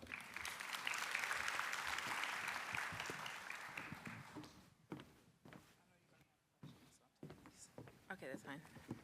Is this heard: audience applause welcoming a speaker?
yes